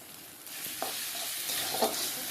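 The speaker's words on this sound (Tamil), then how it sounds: "நல்லா பொன்னிறமாக வதங்கணும்" Garlic paste sautés in a hot pan for chicken gravy, a soft, steady sizzle with a couple of light stirring scrapes, fairly quiet and close, with no talking.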